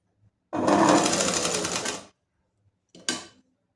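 Short bursts of a sewing machine stitching pleats onto a sleeve: one steady run of about a second and a half, then a quick brief second burst after a pause.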